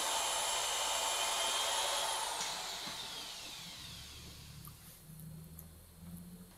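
A power drill drives a 1.5-inch exterior screw into a 1x2 wood stretcher frame, a whining motor that holds steady and then winds down, followed by quieter low handling sounds, close by with no talk.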